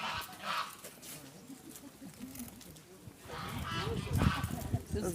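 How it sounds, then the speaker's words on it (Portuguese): Geese honk in a park at Pedras do Silêncio, Nova Petrópolis, heard in short scattered calls at moderate distance. A noisier burst of honking comes toward the end. "Os gansos participando."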